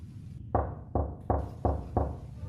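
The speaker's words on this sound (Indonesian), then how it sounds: "terdengar ketukan pintu dari ruang depan" Five firm knocks on a wooden door, evenly spaced about a third of a second apart, close and fairly loud against a quiet room.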